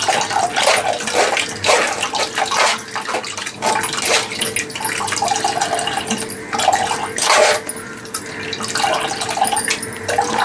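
Water runs steadily and splashes while being added to a ground ABC juice mixture of apple, beetroot and carrot, a continuous close rushing sound with no talking.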